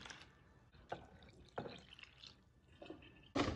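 Water is added to oats in a plate, heard as faint, scattered splashes and drips with quiet gaps between them and one sharper splash at the end.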